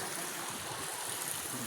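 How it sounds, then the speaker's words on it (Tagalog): River water flowing by a bridge in Sandigan, Bagong Silang, Quezon City, heard as a close, loud, steady rushing hiss without pause over a short stretch. "dito ngayon ako sa ilog"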